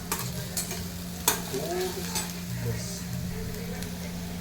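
Garlic frying in a pan for homemade pizza sauce: a steady close sizzle under repeated stirring scrapes and a sharp utensil knock, with a voice speaking briefly over it.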